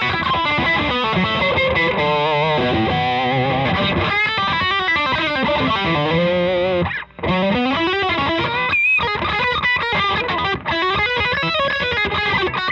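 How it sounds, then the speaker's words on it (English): A Boss distortion effect drives an electric guitar through a Fender Hot Rod Deville amp, playing a long, continuous, bending lead phrase with thick sustain, loud and unaccompanied, with two brief breaks. "the Boss also has some good distortions in it."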